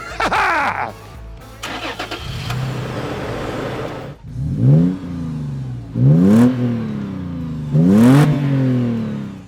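A Toyota 4Runner fitted with a Magnaflow Overland exhaust starts, then revs in three sharp, loud blips that rise and fall back to a deep idle, close and punchy.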